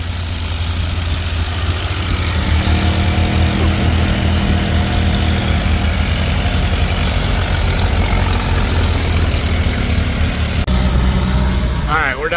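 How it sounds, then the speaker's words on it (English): A heavy old crawler tractor engine, pulling a disc in a field, chugs steadily and loudly throughout, with a deep low rumble and people talking faintly underneath. "look at that old crawler"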